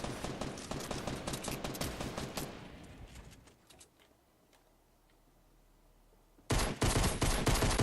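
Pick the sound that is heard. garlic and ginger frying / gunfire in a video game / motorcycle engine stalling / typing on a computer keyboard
gunfire in a video game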